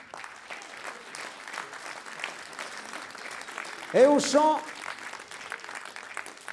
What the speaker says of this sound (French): Applaudissez-les tous bien fort, s'il vous plaît